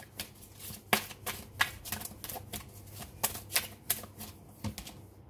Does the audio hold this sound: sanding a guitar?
no